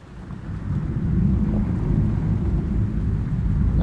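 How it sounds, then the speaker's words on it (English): Thunder in a rainy VRChat world, a low, continuous rolling rumble mixed with rain hiss that builds in loudness and holds steady, with no voices. "I could add thunder."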